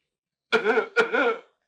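Two quick throaty coughs, close and fairly loud, one right after the other, then silence.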